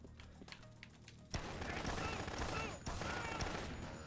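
Rapid gunfire from the video game Dead Rising, dense bursts of shots filling the clip after a quieter start, with game sounds and a voice mixed in.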